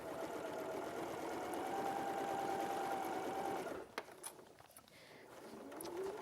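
Sewing machine running steadily, stitching quilted fabric and stretchy fleece, a constant close mechanical whir for almost four seconds before stopping, followed by faint handling clicks and rustles.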